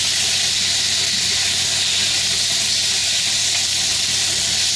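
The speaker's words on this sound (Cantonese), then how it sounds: "我煎一煎個雞先落嚟啊" Chicken fries in a large wok on a single burner, giving a steady, loud, broadband sizzle and hiss that runs unbroken from start to finish with no voices.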